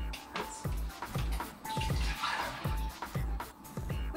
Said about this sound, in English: pour off your delicious coconut water and reserve it